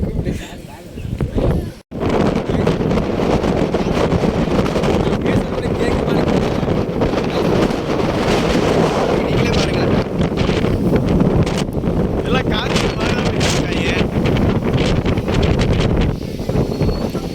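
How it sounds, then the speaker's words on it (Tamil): Strong wind roars and buffets the microphone almost continuously, loud and close, with voices faintly audible under the gusts. "செம்ம காற்று."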